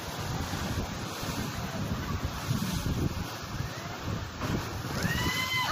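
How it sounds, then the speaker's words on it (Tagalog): Strong ocean waves crash and surge at Big Wave Bay, a continuous roar of surf with heavy wind buffeting the microphone, the swells rising in louder bursts throughout. "Grabe ang lakasan ng alon dun sa likod."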